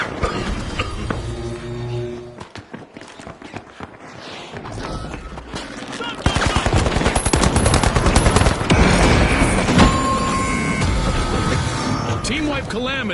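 A frag grenade going off in a team video game brawl, with a loud broadband explosion swelling midway amid rapid gunfire crackle, under a commentator's voice.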